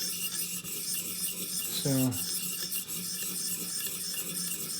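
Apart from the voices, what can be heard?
Benchmade Mini Adamas knife sharpened on 400 grit stone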